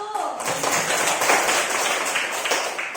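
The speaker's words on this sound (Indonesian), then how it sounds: "Tepuk tangan untuk kelompok 1" A classroom audience claps for a student presentation group, a steady dense patter of hands filling the short stretch at moderate loudness.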